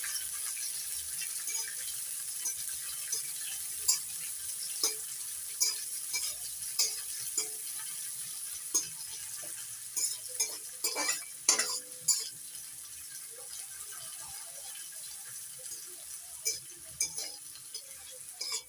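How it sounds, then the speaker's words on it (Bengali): Chopped onion and garlic fry in hot oil with a constant soft sizzle, while a utensil scrapes and knocks against the pan in irregular stirring strokes, some louder clusters in the middle. "পেঁয়াজ কুচিটা হালকা করে ভেজে নেবো"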